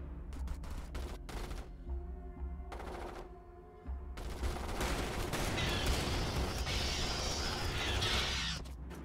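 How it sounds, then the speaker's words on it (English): Rapid gunfire from squads of troopers in the real-time strategy game Starship Troopers: Terran Command, with dense bursts of automatic fire that start in spaced volleys and then merge into a continuous roaring fusillade. "Those guns seem to be pretty effective, squad, though."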